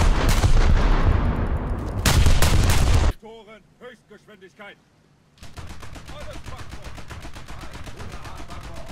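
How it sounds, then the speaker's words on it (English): Loud bursts of rapid naval cannon fire in War Thunder boom and crackle, then a short pause with faint voices, followed by steady rhythmic volleys of repeated gunfire. "The amount of like small cannons going off."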